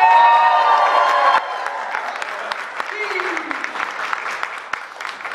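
An audience at a Black Panther press conference breaks into applause and cheering for Michael B. Jordan, loud at first with shouts and whistles, then settling into lighter clapping and scattered whoops.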